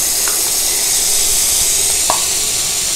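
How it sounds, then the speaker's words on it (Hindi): Onion paste made from two medium onions sizzles as it fries in oil over medium heat for a fish curry, giving a steady close hiss with a couple of brief crackles. "तो इसमें अब हम डालेंगे ये प्याज का पेस्ट।"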